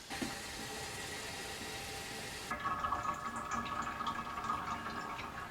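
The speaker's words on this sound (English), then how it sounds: "It sounds like it's draining through there pretty quickly." Water trickles and drains steadily through a Big Berkey gravity water filter into a container, faint and close, with a soft dripping, gurgling character that shifts partway through.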